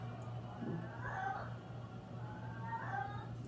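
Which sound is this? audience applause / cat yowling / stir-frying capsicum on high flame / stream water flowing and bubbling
cat yowling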